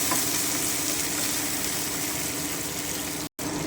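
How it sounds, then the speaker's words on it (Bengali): Cashew nuts and ginger frying in a pan give off a steady, close sizzle that holds at an even level, with one brief dropout near the end. "আমি আরও একটুখানি ভেজে নিচ্ছি।"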